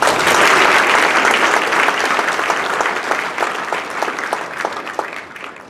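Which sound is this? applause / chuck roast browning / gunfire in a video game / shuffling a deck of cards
applause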